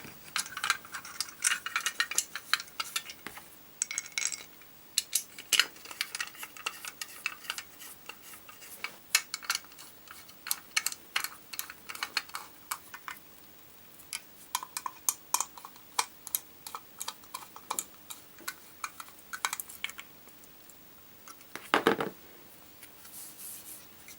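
A handmade copper racing-driver figure is screwed onto its base of soldered-on nuts, giving a long run of small metallic clicks, ticks and scraping taps, irregular and close, with brief quiet gaps between bursts.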